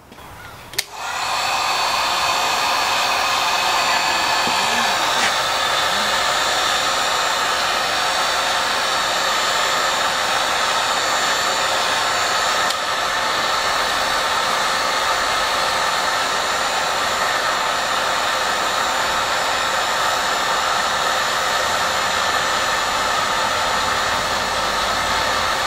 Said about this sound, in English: So I'll get the heat gun on this and we can watch it shrink.